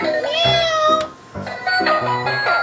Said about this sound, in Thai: มันก็คือกระปุกออมสินแมวเหมียวนั่นเอง